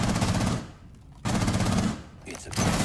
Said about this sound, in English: Yeah, I shot him. He's down.